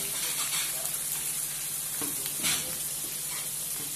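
An eggplant stuffing mixture with tomato paste sizzles in a hot pan, a steady bright frying hiss close by, with a few soft stirring scrapes and no talk.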